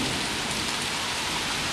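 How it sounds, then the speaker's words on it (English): Heavy rain pours down in a dense, steady roar during a thunderstorm, loud and close throughout with no voices. "Oh my god, it's raining so much now."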